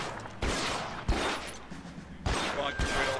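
Gunshots from the LA Noire video game, four sharp, loud reports fired in two close pairs, each with a short decaying tail.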